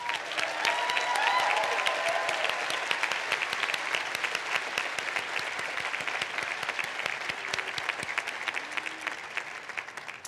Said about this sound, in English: Let us all give you a hearty round of applause.